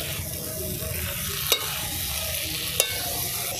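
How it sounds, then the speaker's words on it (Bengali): Boiled potatoes are sautéed with spices in a pan, giving a steady close sizzle with soft stirring scrapes and two sharp utensil clicks, without any talk. "আলুটা দিয়ে এবার মশলার সাথে আলুটা সুন্দর করে কষাবো"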